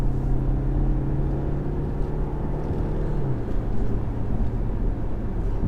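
A 2021 BMW 520d Touring driven quickly, its diesel engine and road noise forming a loud, steady interior rumble, with the engine tone dropping slightly partway through.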